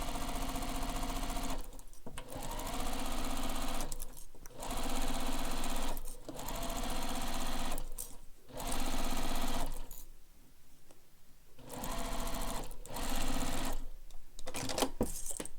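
A sewing machine stitches a backpack seam in several loud, steady whirring runs that stop and restart every couple of seconds. A longer quiet gap falls near the end. Close by, with no voices.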